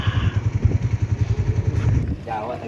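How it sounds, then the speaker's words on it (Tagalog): Motorcycle engine chugging in an even, rapid low pulse close by for about two seconds, then cutting off. "At dahil medyo malayo-layo, sasakay tayo ng motor."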